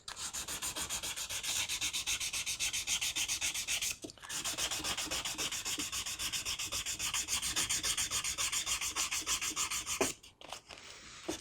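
Guitar frets on a neck being polished by hand to remove leftover scratches, a steady close-up rubbing and sanding rasp that runs continuously, pauses briefly near the four-second mark, then stops and resumes faintly near the end.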